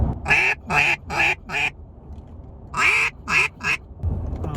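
A duck call blown close up, producing raspy quacks in two bursts, first four and then three, loud and alone, with no talking.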